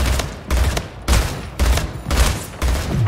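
Bursts of gunfire from the arena shooter Splitgate ring out in close, loud volleys, about six sharp clusters spaced roughly half a second apart, with no talking.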